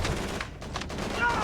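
Bursts of gunfire in the World War II video game Call of Duty 3, rapid close shots crackling in quick succession with game noise underneath and no speech.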